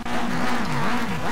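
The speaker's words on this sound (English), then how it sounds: "as we are revving him up for heat number 1 here at Valkenswaard" A rallycross race car revs its engine on the start line for a heat at Valkenswaard, a loud close engine note rising and falling in quick surges.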